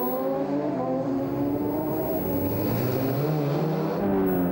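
Conor Cummins' race motorcycle at the Southern 100 road race drops through the gears braking for a hairpin, its engine note falling in stepped pitch sweeps, loud and close as if heard from onboard.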